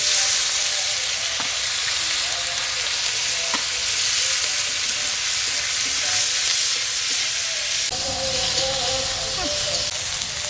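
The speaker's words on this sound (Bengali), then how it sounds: "মানে একের সঙ্গে পেঁয়াজ আর টমেটো ভেজে নেব" Cumin, onion and green tomato fry in a pan with a loud, steady sizzle and hiss, occasional stirring clinks, and a sharper burst of crackling near the end.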